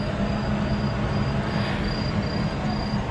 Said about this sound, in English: you can watch the trains go by